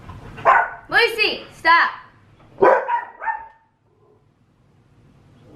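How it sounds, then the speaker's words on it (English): Dogs bark close by in sharp bursts of several barks, with a short pause between two clusters before things fall quiet; a person briefly speaks over the barking. "They're not going to stop barking."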